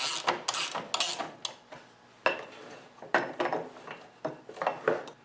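Metallic clicks and scrapes from a wrench snugging a lock nut on an MTD Cub Cadet snowblower chute-tilt, a series of close, uneven taps and ratchety clinks with brief pauses.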